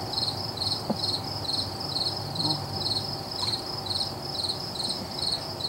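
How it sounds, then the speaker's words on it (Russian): Crickets chirp at night in rural America, a steady high-pitched pulsing trill repeating in regular bursts, moderately loud and close, over a low background hum. "Тихо, сверчков послушать дайте. Ну как сверчат."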